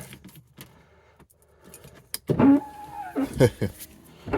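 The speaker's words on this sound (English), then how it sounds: "Keys going in." Keys jangle and slide into the ignition of an Audi A6 Avant, close metallic clinks and rattles inside the car, followed by a louder burst of jingling and cabin noise.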